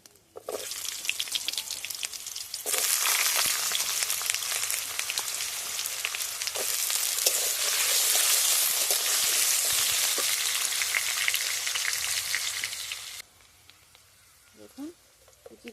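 Potatoes drop into hot oil in a pan, setting off a loud, steady sizzle that holds for about ten seconds before easing back, with a brief spoken moment near the end.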